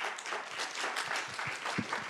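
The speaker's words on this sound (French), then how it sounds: "Et on peut l'applaudir." An audience at a media prize presentation applauds as a presenter is called onto the stage, a soft, continuous patter of clapping heard from a distance.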